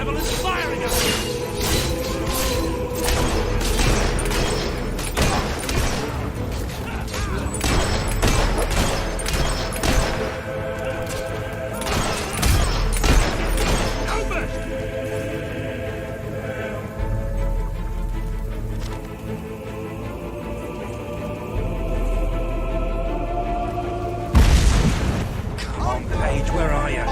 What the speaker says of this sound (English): Damn rebel is firing at me!